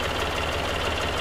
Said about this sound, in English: if I rev the engine up and you can't hear anything at all.